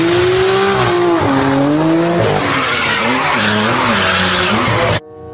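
A toy race car sound effect with revving engine tones that rise and fall and screeching tire skids, loud and continuous before cutting off abruptly near the end.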